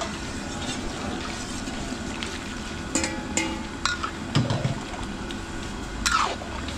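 Water poured into leftover peanut butter while kare-kare is being cooked with coconut milk for a catered birthday meal, giving a few soft splashes and sloshes over a steady background hiss.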